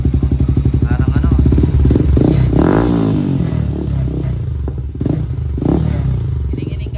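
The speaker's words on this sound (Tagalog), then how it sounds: "sound check natin kung ano yung tunog. Tunog big bike mga paps." A Yamaha Sniper 155 motorcycle engine, set up in a semi big bike style, runs loud and close with steady rapid pulsing and a rising rev in the middle, while someone talks over it.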